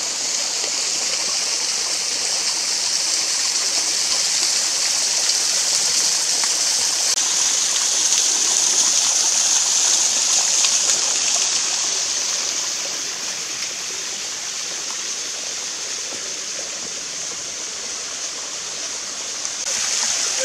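Barron Pokpo waterfall in Wolchulsan National Park, South Korea, pours in a steady, loud, broadband rush of falling water, unbroken for the whole stretch and easing slightly in level toward the end, with no voices.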